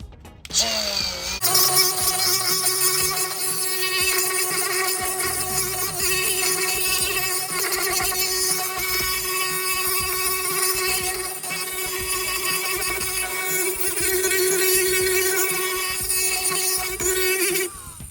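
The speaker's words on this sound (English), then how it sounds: "now all these have to be sanded flat, including this" A power tool sands Harley-Davidson 5x7 to 6x9 speaker adapters flat, a steady high-pitched whine running loud and continuous for most of the stretch, starting after a brief buildup and cutting off near the end.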